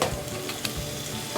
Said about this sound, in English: Okay, so I've mixed up the pork with the onions. Needs a little bit more pan frying to go.